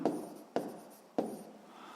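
Three crisp pen strokes tap and scratch across paper as a school maths answer is written down, each followed by a brief trailing scribble, close and quiet with no voices.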